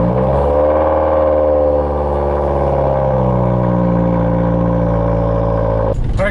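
Subaru WRX engine idling steadily after startup, a loud continuous low rumble with harmonic drone holding for several seconds before a brief shift at the end; no talk over it.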